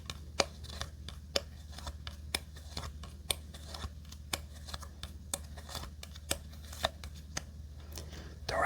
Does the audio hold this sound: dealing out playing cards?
yes